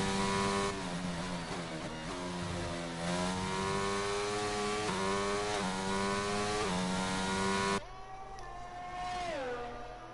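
Formula 1 cars racing at Canada in a video game, several high-pitched engines screaming and rising through gear changes, one car close and loud before the sound drops to a quieter passing whine.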